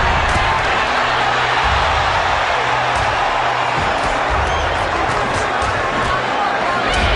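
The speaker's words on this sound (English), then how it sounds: "the crowd erupted into cheers" Dense, steady roar of a boxing arena crowd cheering as the final round of the Arturo Gatti vs. Micky Ward fight begins, loud and continuous throughout with no pauses.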